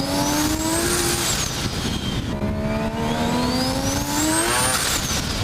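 An engine-swapped Mazda RX-7 running a three-rotor rotary engine howls loudly and continuously, its pitch sweeping up and dropping back twice as it revs hard, with no voices.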